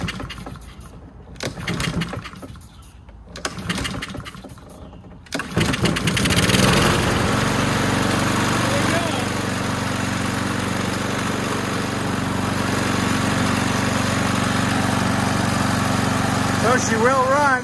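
A Husqvarna 7021P push mower engine sputters through a few pull attempts with bursts of noise, then catches and settles into a loud, steady running drone close by.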